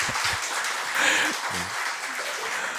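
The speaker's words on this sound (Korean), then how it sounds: "우리 박수로 한번 환영하도록 하겠습니다." Members of a church congregation applaud to welcome a couple, the clapping sustained and moderately loud, with brief voices heard over it.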